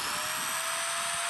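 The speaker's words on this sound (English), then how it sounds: "The easiest way that I found to cut aluminum is with a carbide blade" A chop saw fitted with a carbide blade cuts aluminum angle, giving a steady, loud, high-pitched whine that holds unbroken through the whole short stretch, with no talking.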